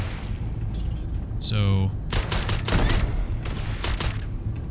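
Rapid bursts of gunfire from the video game Starfield crackle loudly through most of the stretch, with a brief rising electronic tone before, while a voice speaks briefly.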